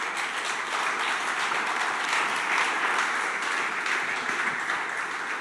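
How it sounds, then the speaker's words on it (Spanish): A church congregation applauds together in a steady wash of clapping that stays dense and even from start to finish. "¿Por qué no le das un aplauso al Señor?"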